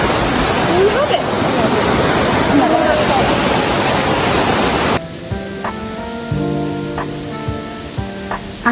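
Dense, loud roar of a waterfall along the Mount Alap-Alap trail, a steady close rush of water that cuts off abruptly midway and gives way to quieter sound.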